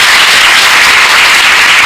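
A crowd applauds loudly at a devotional gathering, a continuous dense clatter of hands close by and at full volume for the whole stretch.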